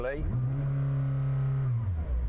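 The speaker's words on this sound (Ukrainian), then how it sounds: "Спершу послухаємо цей Макларен. Зараз увімкну його." McLaren Senna supercar engine starts and revs, holding a steady high drone against a 4,000 rpm limiter for about a second and a half before dropping, loud and close.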